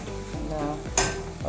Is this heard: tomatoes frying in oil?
yes